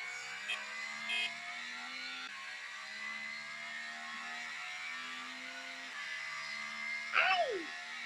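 A motorcycle engine in a mobile video game hums at a steady, faint synthetic pitch that steps up and down in short revving stages, ending with a sharp, louder rising-and-falling whine near the end.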